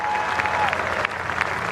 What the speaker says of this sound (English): He walks off to a good round of applause.